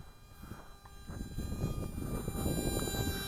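Small Attop P01 Sky Soar three-channel RC airplane flying at nearly full throttle, giving a faint, high, steady electric motor whine that swells slightly, with light wind noise and no talking.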